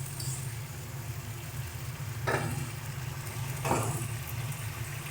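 Spice paste sizzles softly in a wok while being cooked down with splashes of water, a faint steady frying hiss over a low hum, broken by two brief scraping stir strokes.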